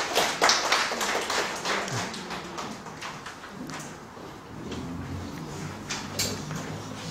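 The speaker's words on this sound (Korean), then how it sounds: "박수로 맞이하도록 하겠습니다." An audience at a gifted-school admissions information session claps to welcome a math teacher; the clapping starts moderately loud and thins out over a few seconds amid room noise and soft shuffling.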